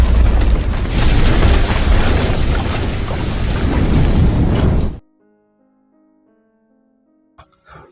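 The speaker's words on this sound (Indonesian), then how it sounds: "mobil pria tua itu meledak." A car explodes, a loud, sustained roar and crackle for about five seconds, then cuts to near silence with faint tones and a brief rustle at the end.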